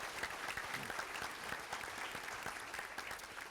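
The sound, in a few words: applause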